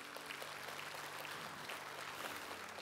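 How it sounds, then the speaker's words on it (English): A church congregation at a New Year's Day service claps together in a dense, sustained wash of applause, faint and slightly distant, filling the space evenly. "can we give a hand clap to those who prayed?"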